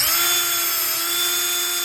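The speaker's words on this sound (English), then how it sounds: "Let's drill." A power drill bores a drain hole through the plastic tub of a homemade ice bath, a loud, steady high-pitched whine that holds without a break, close and alone.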